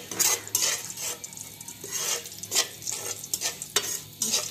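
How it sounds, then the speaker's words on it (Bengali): Whole spices, two bay leaves, two cardamom pods and two pieces of cinnamon, sizzle in hot oil for a Bengali chicken and potato curry. The crackle is steady, with repeated scrapes and stirring clinks from a utensil in the pan. "ভাজা তেলের ভিতরে আমি এখন দিয়ে দিচ্ছি 2টা তেজপাতা, 2টি এলাচ আর 2টুকরো দারচিনি আমি দিয়ে দিচ্ছি।"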